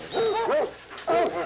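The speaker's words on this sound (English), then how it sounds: "Cousin Hoss, you just became the proud owner of 4 howling hound dogs." A group of four hound dogs in a Western setting, barking and howling in two drawn-out, wavering yelps with a rising-and-falling pitch, close and fairly loud.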